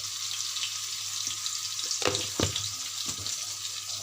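Ground cumin and chili powder frying with lightly fried eggs in a pan, giving a continuous close sizzle and hiss with a few soft stirring knocks partway through.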